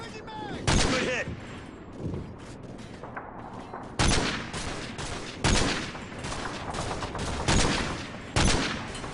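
Sniper rifle fire in the Modern Warfare 3 campaign, rooftop cover mission: several sharp, loud gunshots spaced a few seconds apart, each with a booming tail, over ongoing battle noise.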